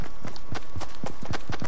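Another player's footsteps in Fortnite thud in a quick, fairly regular run, each step a short low impact, close and loud against a steady game background.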